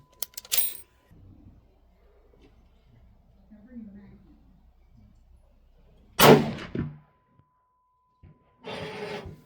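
.270 Winchester rifle firing one loud, close gunshot with a sharp blast and a brief decaying tail, set between shorter bursts of noise and quiet stretches.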